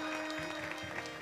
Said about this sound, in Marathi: जोरदार टाळी वाजवा.